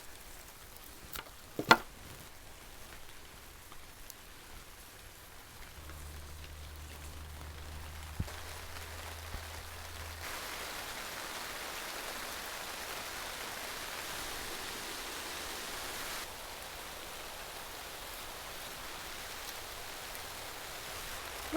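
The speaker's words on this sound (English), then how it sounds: "There's really nothing like being in a greenhouse when it's raining." Rain falls on a greenhouse, a soft steady patter and hiss on the roof, faint and continuous, swelling slightly in the middle, with a few isolated knocks and a low hum early on and no talking.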